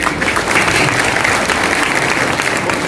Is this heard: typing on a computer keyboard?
no